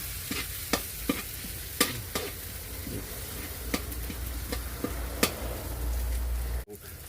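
Beef stir-fried with holy basil sizzles steadily in a hot pan while a utensil scrapes and clacks against the metal in sharp, irregular strokes, close and moderately loud, ending in a brief drop.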